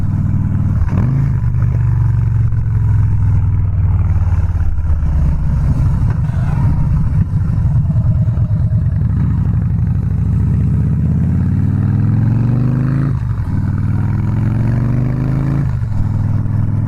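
A Harley-Davidson Softail Slim with a 103ci engine rumbles loudly and steadily while being ridden, its low engine note rising through several accelerations and gear changes with no talking.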